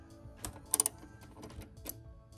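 A 13 millimeter socket on a ratchet works a bolt loose while an oil separator catch can is fitted to a Ford Explorer Sport with a 3.0 engine, giving quiet, close, uneven clicks and a brief quick burst of rattling ticks.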